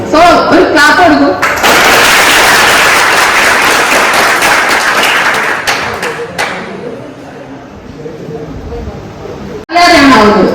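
A classroom group claps in a burst of applause lasting several seconds, loud and dense at first and then thinning out, with voices talking just before and after it.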